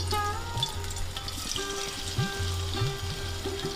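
Cabbage pakoras, flattened by hand, are slipped one at a time into hot oil and fry with a steady, close sizzle and crackle that runs through the whole stretch without any talking.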